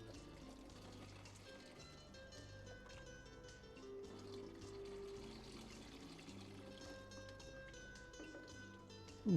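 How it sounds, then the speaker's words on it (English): Water washes a soaked soil sample through a 75 micron sieve, a soft continuous pouring and trickling at low level with faint background hum, ending in a brief louder knock. "Wash this soaked sample thoroughly on 75 micron size using water until clean water passes through the sieve."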